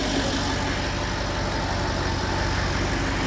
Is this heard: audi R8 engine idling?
yes